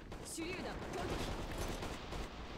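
Rapid bursts of rifle fire from a SCAR-L Black Lemon in the online shooter AVA crackle over busy game noise, sounding as dense, overlapping volleys throughout.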